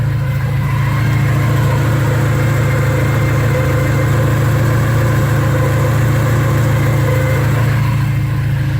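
A 1986 Porsche 944 Turbo engine runs steadily up close on a warm day, a loud, constant low rumbling drone with an even vibrating hum throughout and no voices.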